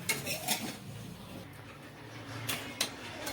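Cauliflower curry is stirred in a pot, with a spoon knocking and scraping against the metal in scattered clinks between quieter stretches of low simmering.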